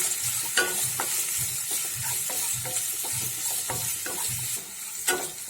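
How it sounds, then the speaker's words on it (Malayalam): Sliced onion sizzles in hot oil while it is stirred for a potato masala curry, with a regular rhythm of close scraping spoon strokes over a steady frying hiss and no talking. "എന്നിട്ട് ഇനി നന്നായിട്ടൊന്ന് ഇളക്കി വഴറ്റിയെടുക്കാം."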